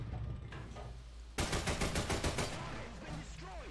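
A Breda mod 35 20mm gun on an Italian tank fires in War Thunder, a rapid burst of about eight loud, closely spaced shots that dies into a lingering rumble.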